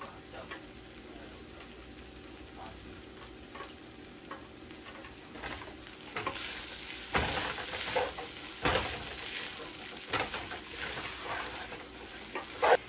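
Fish fries in oil in a pan with a continuous sizzle that swells louder over time, with occasional clatters and scrapes from turning the pieces.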